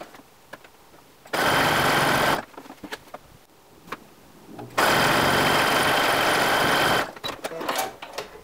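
A sewing machine runs a zigzag stitch over elastic on a half slip in two steady bursts, the second longer, with quieter handling clicks and rustles between them.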